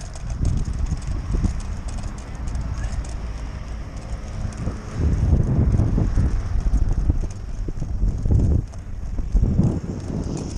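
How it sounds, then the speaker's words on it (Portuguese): Strong gusts of wind buffet the microphone in loud, low rumbling surges, rising and falling over several seconds. "olha o vento."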